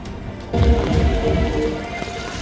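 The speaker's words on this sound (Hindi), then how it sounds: "जब से ये बारिश शुरू हुई है तब से बारिश रुकी नहीं है" Heavy rain pours down in Haridwar, Uttarakhand, a dense, steady broadband hiss of downpour that starts abruptly and then continues loud and unbroken, with no voices over it.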